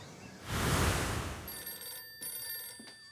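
An old-style telephone bell ringing in an office setting, a continuous bright trilling ring over a noisy background, breaking off briefly with short gaps near the end.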